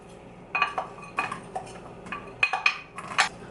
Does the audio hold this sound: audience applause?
no